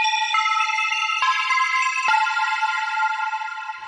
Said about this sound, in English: The next thing I did was I added a reverb to make it sound like this.